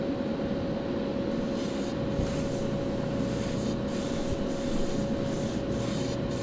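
Automotive 2K clear coat sprayed from a spray gun over a painted car body and under its spoiler, a steady broad hiss that runs unbroken through the whole stretch with a constant tone beneath it.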